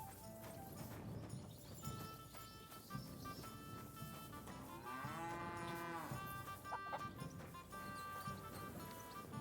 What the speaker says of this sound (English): More cow.